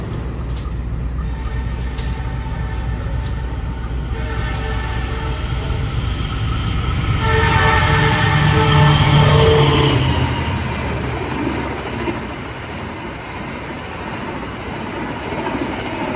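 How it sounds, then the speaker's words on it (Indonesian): Express trains speeding past at 120 km/h, a loud swelling roar with wheel clatter and rail squeal building to a peak and then fading, heard alongside sharp periodic clicks and no voices. "Dibantai kereta-kereta ngebut 120 km per jam semua ya, kereta kelas unggulan"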